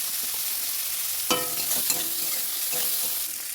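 Onions tempered with whole spices frying in a hot wok with salt added, a steady sizzle broken by scraping stirs of a spatula, close and moderately loud with no talk.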